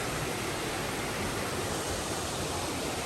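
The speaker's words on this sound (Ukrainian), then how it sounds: "Ось і сам водоспад." Kamianka waterfall in the Carpathians, a steady broadband rush of falling water, constant and close with no other sounds.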